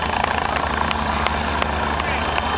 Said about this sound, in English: the Redbull helicopter, one of the most sought-after air show acts in the world